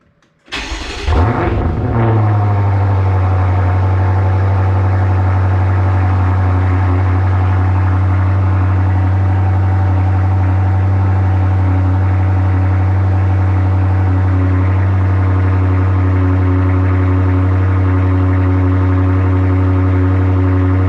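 A BMW M5 with an AWE Track exhaust cranks and catches, then settles into a loud, steady idle with a deep exhaust drone that continues unbroken, with no one speaking.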